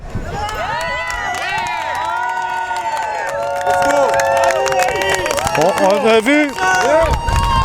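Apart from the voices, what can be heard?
crowd cheering at a Montréal demonstration march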